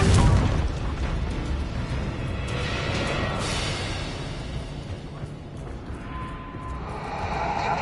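Spell explosions from Bombarda and Confringo in Hogwarts Legacy: a loud, deep boom opens, then a sustained rumbling roar with crackling debris that slowly fades, ending in a faint tonal shimmer.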